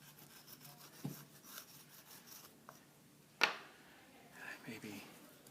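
Chalk is rubbed into a nature painting in quiet, intermittent scrubbing strokes, with a few sharper scrapes and taps between softer rubbing.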